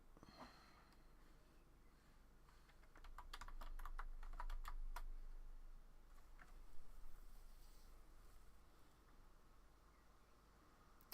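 Computer keyboard typing in bursts of quick clicks, close and fairly quiet, with keys struck unevenly over a low steady hum and no talking.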